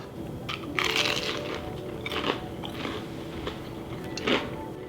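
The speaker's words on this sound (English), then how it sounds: "You hear that crunch?" Loud, close crunching bites into a crispy fried wild turkey tender, a few distinct crunches spread over several seconds with chewing noise between them.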